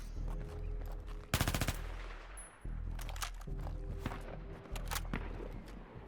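Automatic weapon fire in the shooter game Battlefield 3: one short, sharp burst of rapid shots stands out over game ambience and faint footstep-like noises.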